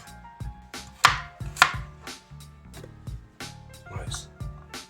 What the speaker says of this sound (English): 6 fresh turmerics, peeled and roughly chopped